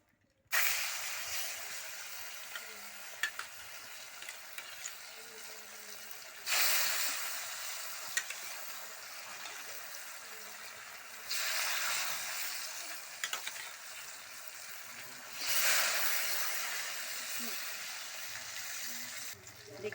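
Fish sizzling in hot oil in a pan, with a steady frying hiss and occasional pops. The sizzle swells louder in several bursts, probably as the pieces are turned or stirred.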